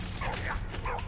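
A short, faint bark or yip from a dog in the video game Valiant Hearts The Great War, heard once or twice over a low, rumbling background.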